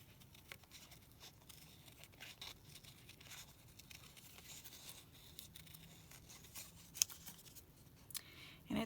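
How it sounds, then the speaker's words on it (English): Small scissors fussy cut a paper Valentine picture, giving faint, close snips and paper rustles in an uneven rhythm, very quiet throughout. "I'm going to go ahead and fussy cut that."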